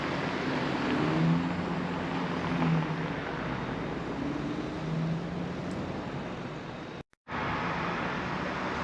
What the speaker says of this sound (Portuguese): Aqui o barco a passar.